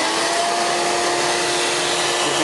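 A vacuum cleaner runs steadily and loudly close by, drawing flies off the screen of a worm bin with a constant whooshing hum.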